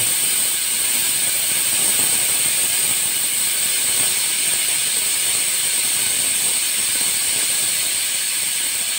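Steam hisses out of a boiling pot before it is opened, in a steady, continuous high-pitched rush, loud and close, without pause or change.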